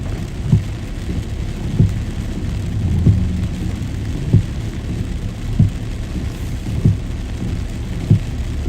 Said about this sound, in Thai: น้ำฝนลงมาอีกแล้วนะฮะน้องน้ำฝน